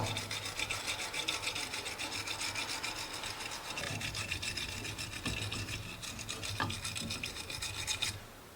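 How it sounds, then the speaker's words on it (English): A wire brush scrubs up and down the threads of a trailer jack in steady, continuous rasping strokes, close and loud, with no talking. "we're going to be using this wire brush, cleaning up the threads all the way up and down"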